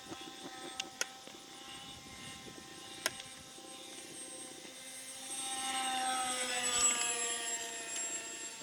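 A twin-motor RC airplane passes low and upside down at full throttle with one motor acting up, a whining multi-tone buzz that swells louder as it approaches, with a few sharp clicks early on.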